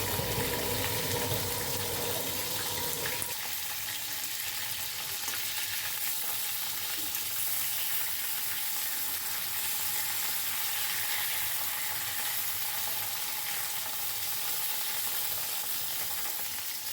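Squeezed shredded cabbage fries in hot oil, a dense continuous sizzle that stays loud and close for the whole stretch, with a brief stirring clatter near the start and no talking.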